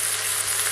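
Sliced onions sizzle and brown in a pan with pork, a dense, steady hiss of frying heard up close for a brief moment with no voices.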